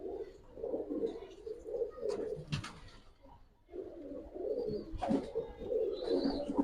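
Pakistani high flyer pigeons with red throats coo in a loft in soft, repeated low rolling phrases, broken by a couple of sharp handling clicks and flutters up close.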